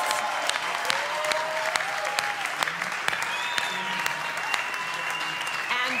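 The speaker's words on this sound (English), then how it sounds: "let's give another big round of applause to all five of the finalists" An audience applauds the five finalists at the 2023 American Pianists Awards club finals, sustained dense clapping from a crowd with sharp individual claps, fairly loud and steady.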